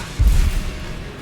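A Confringo fire spell blast in Hogwarts Legacy lands as a single short, deep boom that quickly fades into a low rumble.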